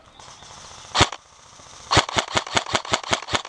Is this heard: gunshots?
yes